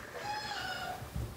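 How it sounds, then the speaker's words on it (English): A house cat gives one drawn-out meow, close and fairly soft, with a faint low thump at the end. "This is my roommate's kitty."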